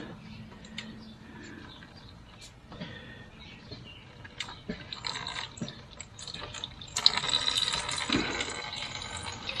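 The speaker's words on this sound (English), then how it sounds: "We are going to drain this, which should now be mostly antifreeze." Antifreeze coolant drains from an RK25 tractor, a faint trickle and drip of liquid that grows into a fuller, splashing flow toward the end, with occasional small clinks in the background.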